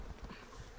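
Bees hum inside an opened beehive, a brief, faint, continuous buzzing close by with no talk.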